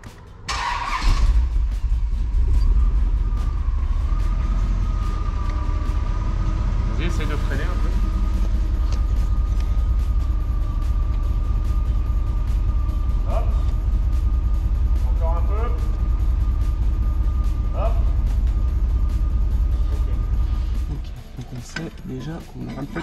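A car engine starts and settles into a loud steady running drone that holds for most of the stretch, with a few brief rises and people speaking over it before it drops off near the end.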